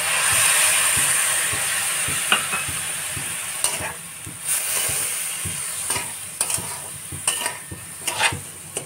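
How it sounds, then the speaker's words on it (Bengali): Coconut and sugar being stirred in a pan for narkel sondesh, with a steady low sizzle and repeated scraping strokes of the spoon against the pan, occasional sharper clinks, no voices. "এবার আমি এইভাবে নেড়ে চেড়ে পাক আসা নারকেলটা পাক দিয়ে নেব"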